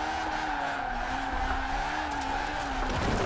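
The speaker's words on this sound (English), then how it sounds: "Little night street drifting in that magical rotary." Sustained tire squeal from a rotary-engined car drifting at night on city streets in Forza Horizon 4, a continuous loud screech layered with a droning engine note.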